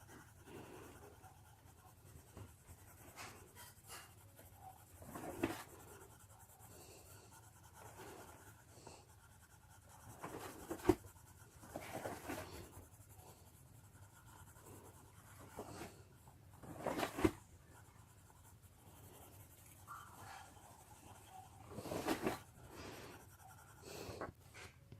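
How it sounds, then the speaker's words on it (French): Polychromos coloured pencil strokes on paper, close and quiet, coming as scattered soft scratchy bursts of scribbling separated by near-silent pauses. "les traits de crayon s'enlèvent et les couleurs s'estompent et se mélangent."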